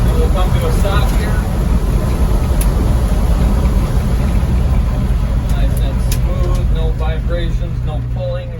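A 1994 Land Rover Defender 90 with a 200tdi diesel cruising in fifth gear at about 40 mph, a loud continuous engine drone and road rumble inside the cab that eases slightly toward the end.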